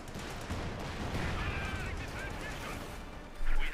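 Heavy machine gun fire rattles through a Company of Heroes 2 one-versus-one battle between OKW and Soviet forces, a dense, continuous wash of battle noise with a louder burst near the end.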